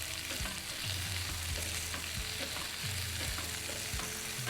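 Diced onion frying in a pan, a steady close sizzle with occasional stirring scrapes and taps, quiet overall and without any talking.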